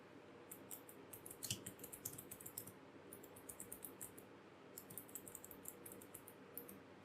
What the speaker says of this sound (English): You hear all those clicks, those clickety clacks?